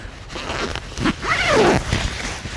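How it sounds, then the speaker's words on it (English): A zipper drawn up on a painting suit, with a couple of short tugs followed by one long rising zip, close and clear with no talking. "Let's zip it up."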